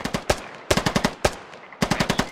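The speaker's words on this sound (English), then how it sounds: "Lots of covering firing at them." Bursts of automatic covering fire crackle in the video game Squad, several rapid strings of close, sharp shots separated by short pauses, loud and with no voices over them.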